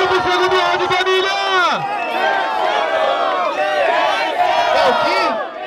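Crowd noise at a Brazilian rap battle semifinal in Guarulhos, with a loud, continuous roar of shouting and cheering voices sustained for several seconds, voices rising and falling over a dense babble.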